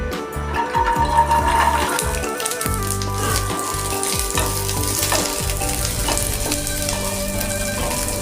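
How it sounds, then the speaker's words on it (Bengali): Steady, close sizzling of garlic frying in hot oil, with a dense crackle and occasional stirring scrapes throughout. "এবার আমি আর অল্প একটু তেল দিচ্ছি এবার দিচ্ছি আমি রসুন"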